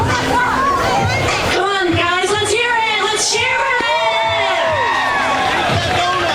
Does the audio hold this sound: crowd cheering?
yes